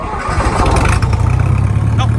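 A John Deere 2010 tractor engine, still warm and started without choke, cranks and catches, then settles into a loud, close, steady chugging idle.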